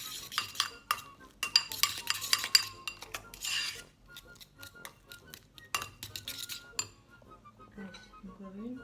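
Spoons of mayonnaise clink and scrape against a dish in a home kitchen during egg mimosa preparation. Several light metallic taps and stirring sounds come in clusters at moderate volume, and there are brief, quiet pauses between them.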